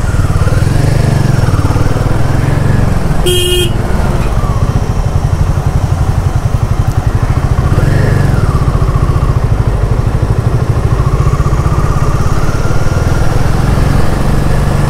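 Motorcycle engine droning steadily on a highway during a long-distance ride, a loud continuous low rumble with wind noise running throughout and a brief sharp burst partway through.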